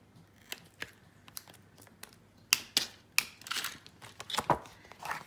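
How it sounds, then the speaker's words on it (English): A laminated sheet has its sharp edges trimmed: a handful of crisp, close cutting snips and crinkles scattered irregularly over a quiet background. "because the laminating sheet, once it's gone through, is quite sharp, I just trim the edges"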